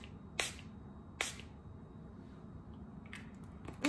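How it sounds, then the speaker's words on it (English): Two short hissing bursts of a perfumed face mist spray pumped into the air, fairly close and clear, with a fainter pair of sprays near the end; no talking. "I want to spray it, so we're gonna see if this ruins my makeup"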